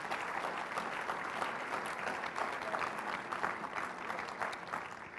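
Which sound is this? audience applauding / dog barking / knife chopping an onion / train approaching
audience applauding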